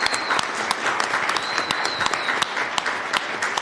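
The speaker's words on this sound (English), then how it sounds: "give a big round of applause for these young leaders" An audience applauds young poster contest winners at a city council meeting in Forest Grove, with steady, dense clapping filling the room for several seconds, a few sharper claps standing out and no voices over it.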